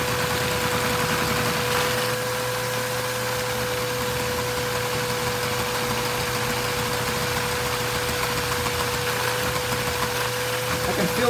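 Steady, fast-running hum of a Lego inline-4 vacuum engine with its flywheel spinning at high speed, constant and fairly loud with an even pitch throughout.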